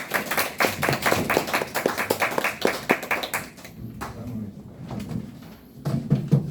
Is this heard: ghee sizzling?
no